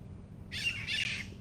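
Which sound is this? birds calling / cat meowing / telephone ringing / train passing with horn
birds calling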